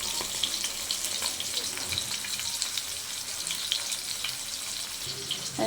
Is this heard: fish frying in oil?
yes